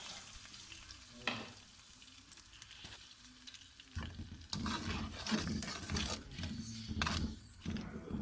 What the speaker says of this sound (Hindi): 2 गिलास पानी शामिल कर देंगे।